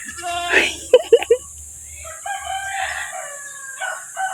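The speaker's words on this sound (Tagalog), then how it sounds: "Manok ni kapitan." A rooster at a rural provincial home in the Philippines crows close by in a short, loud call, with other clucking and voices chattering around it.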